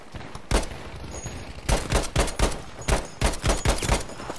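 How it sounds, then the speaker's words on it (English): Shotgun fire in Battlefield 5 on the Hammada Breakthrough map: a series of sharp, loud blasts in an irregular volley, one early shot then clustered rapid shots amid distant battlefield gunfire. "Some other dude's using a shotgun"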